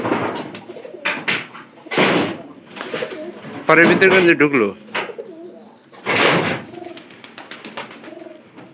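Pigeons coo at their loft in repeated throaty bursts close to the recorder, with wing flutters and rustling between calls and someone speaking briefly over them.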